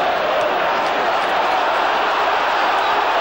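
A football crowd at a Coventry City match in the 1989–90 season roars in a steady, dense wall of cheering that holds at full loudness throughout.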